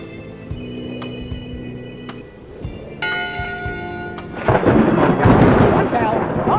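A bell rings for voting hour in the adventure game Return to Monkey Island. One sustained toll rings out over ambient game music, followed by a louder wash of stormy noise.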